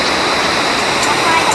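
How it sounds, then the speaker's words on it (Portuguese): Steady broadband roar of water crashing down at the Cachoeira da Fumaça waterfall, loud and continuous, with a voice faintly audible in the spray noise. "Olha lá a cachoeira, ó."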